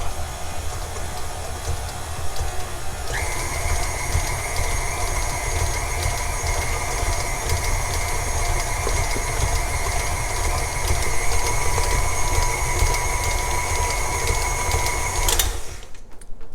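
A mixer beats cookie dough with brown sugar for pumpkin chocolate chip cookies. A steady, fairly loud motor whine starts a few seconds in and runs evenly before cutting off just before the end.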